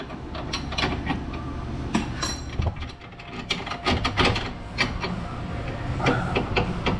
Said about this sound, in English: I'll just sneak this bolt out of here